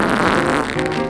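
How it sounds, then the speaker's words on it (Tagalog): A loud, short fart sound effect rumbles as one sustained, buzzing blast of about a second, alone without speech. "hindi na naman niya napigilan ang paggutot"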